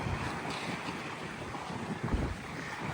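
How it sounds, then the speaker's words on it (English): Strong wind at the seaside at Wells-next-the-Sea in Norfolk, blowing hard across the microphone in a steady roar with gusts, and surf faintly under it. "Oh gee, it's really windy."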